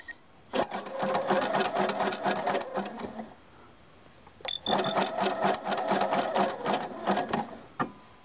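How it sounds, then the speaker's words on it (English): A sewing machine zigzag-stitches the opening of a skirt-style diaper cover closed, two runs of rapid mechanical chattering of about two and a half seconds each separated by a short pause, loud and close with small clicks between. "I'm going to take it back over to my machine, and I'm going to zigzag close that opening"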